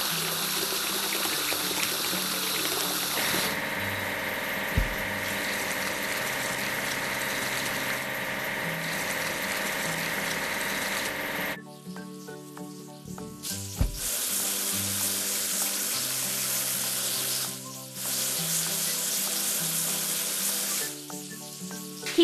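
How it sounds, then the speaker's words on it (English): Water spraying while a bucket lift truck is washed: a steady hissing spray that runs for long stretches, cuts off briefly several times, and carries a few small knocks and a faint mechanical hum beneath it. "We need to wash the bucket lift."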